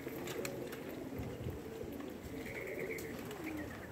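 Tippler pigeons cooing softly in hot weather, low repeated coos layered over a steady background of other bird calls and faint chirps, continuous throughout with no talking.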